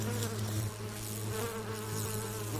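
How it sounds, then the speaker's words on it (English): A bee buzzes steadily and close throughout, a continuous droning hum of beating wings with slight swells in loudness and no talk. "When you hear a bee buzzing along, visiting a flower, you're hearing the movement of air made by the fluttering of its wings"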